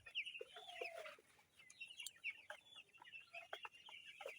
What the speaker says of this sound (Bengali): ব্রাহ্মা মুরগি।